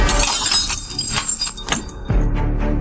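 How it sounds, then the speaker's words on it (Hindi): A drinking glass is smashed in a thriller film scene, giving a bright crash and scattered tinkling shards over a dense, loud soundtrack, with a second sharp impact near the end. "धीरे धीरे अपने सिर के ऊपर रखा पानी का गिलास उतारा और उसे जोर से फोड़ दिया"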